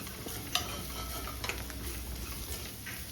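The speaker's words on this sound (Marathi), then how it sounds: "त्यानंतर सर्व मिक्स करून घ्यायचं" Bitter gourd stir-fry with peanut powder and coriander powder being stirred in a hot pan, soft sizzling under light scraping and a few clinks of the spoon, quiet and steady.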